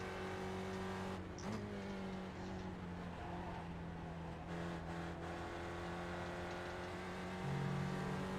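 Spec Racer Ford race car engine in the iRacing simulator at Oulton Park, a steady droning tone with a quick downshift blip, continuous and fairly quiet.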